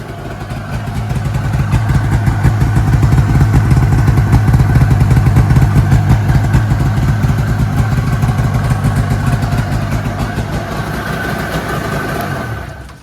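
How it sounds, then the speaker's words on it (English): A Bombardier Ski-Doo Formula MX snowmobile with a Rotax engine and a gravity-fed fuel conversion runs steadily and loudly up close for about thirteen seconds. The rough, buzzing two-stroke note holds nearly constant before cutting off at the end. "Did you ever think I would get the snowmobile to start up on the first pull"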